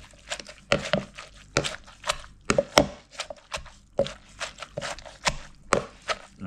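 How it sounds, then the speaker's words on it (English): Rhythmic, fairly close thuds of a pestle pounding green papaya salad ingredients in a mortar, with irregular knocks coming every fraction of a second, some wet and squishy, and no talking. "when you pound it, like I say, don't pound it too hard"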